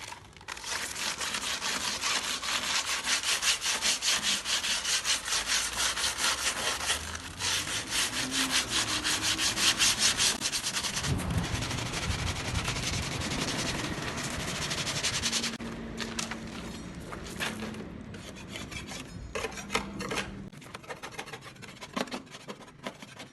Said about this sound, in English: You start with a rough grit to get rid of it, but that will leave scratches.